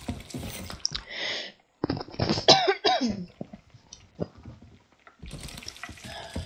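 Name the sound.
cough in the video game Sea of Thieves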